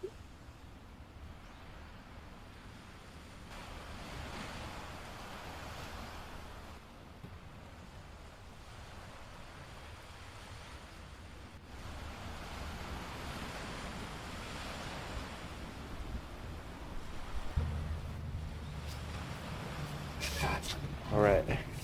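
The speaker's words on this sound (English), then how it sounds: "Just soaking in the waves." Ocean waves break on the beach at Imperial Beach, a steady broad wash of surf swelling and fading, mixed with wind rumble on the microphone. A voice speaks near the end.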